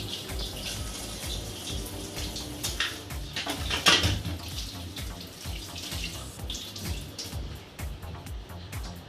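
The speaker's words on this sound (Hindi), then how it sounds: "असेंबलिंग के लिए मैं ज़रा हाथ धो लूँ" Hands washed under a running kitchen tap, a steady splashing water stream close by with rubbing and splatter that swell briefly midway, then continue evenly with no voices.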